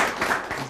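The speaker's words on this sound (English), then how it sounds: "let's clap for them" An audience clapping at a talk show, a brief dense burst of many hands applauding at moderate loudness.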